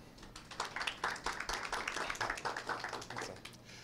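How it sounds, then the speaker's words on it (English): Quiet, sparse clapping at a DNSSEC tutorial session greets instructor Johan Ihren, with a few distinct hand claps in an uneven rhythm rather than full applause. "please let's give a round of applause to Mr. Ihren"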